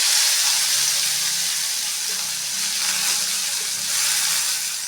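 Onion tossed into hot oil crackles and hisses in a strong, steady sizzle that holds throughout, close and loud, with no one speaking.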